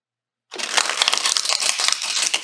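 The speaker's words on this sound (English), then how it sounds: "Let's see how they sound when they're shuffled." A tarot card deck being shuffled, a dense burst of crisp riffling and flicking that starts abruptly after a short silence and carries on steadily, close and fairly loud with no voices.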